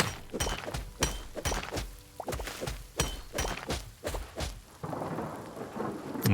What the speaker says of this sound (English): Oh god, a thunderstorm.